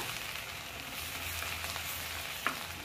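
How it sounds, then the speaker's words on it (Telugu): Ginger garlic paste fries in a pan with ground coriander for a paneer curry, giving a steady soft sizzle with a faint crackle and one sharp tap near the end. "చూడండి, చక్కగా వేగనియండి పచ్చివాసన పోయిన దాకా"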